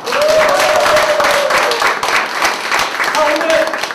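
A workshop audience applauds, a thick wash of clapping throughout with voices and a sustained tone sounding over it.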